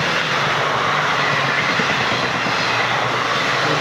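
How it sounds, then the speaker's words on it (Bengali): Train running on the journey from Rajasthan to Sealdah, heard as a loud, steady rumbling roar of wheels and carriages that stays constant throughout, with no voices. "ট্রেন চলে যাচ্ছে মোটামুটি।"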